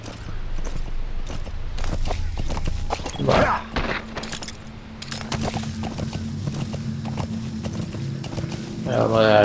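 Horse hooves clop in Metal Gear Solid 5 gameplay as a steady, rhythmic trot throughout, with game ambience beneath and a brief voice near the end.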